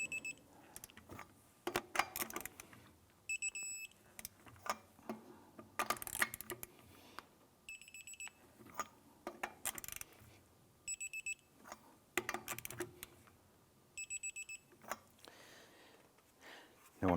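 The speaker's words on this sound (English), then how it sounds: "Using your torque wrench, go ahead and torque the lug nuts down to 95 foot-pounds." Lug nuts on a 2005-2007 Ford 500 wheel are tightened with a torque wrench, a series of faint, sharp metallic clicks and ratchet snaps in repeated bursts, with quiet handling noises between them.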